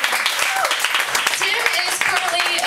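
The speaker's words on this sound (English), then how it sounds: "let's give him a really, really big round of applause for going first" A reading audience at a Cornelia St. Cafe literary event applauds steadily, a dense, even wash of clapping with cheering voices mixed in throughout.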